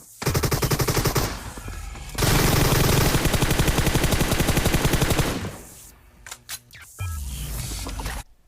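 Sustained bursts of M249 light machine gun fire in the PUBG Mobile battle royale game, two long loud strings of rapid shots, then a few scattered single shots and a final shorter burst, with no voices.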